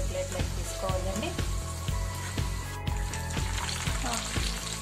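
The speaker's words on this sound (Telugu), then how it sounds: "ఇలాగా కరివేపాకును లాస్ట్లో వేడి నూనెలో ఇలా డీప్ ఫ్రై చేసుకోవాలండి" Curry leaves deep-fry in hot oil for an okra (lady finger 65) dish, giving a steady, close sizzle with repeated light clinks and scrapes as they are stirred.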